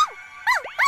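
A small puppy whines and yips in short rising-and-falling cries, three quick close calls in under a second.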